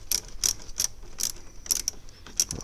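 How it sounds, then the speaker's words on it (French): A ratchet wrench loosens the negative battery terminal clamp on an Opel Mokka, giving a series of sharp, close clicking bursts in an irregular rhythm with short pauses between them. "on va desserrer notre cosse"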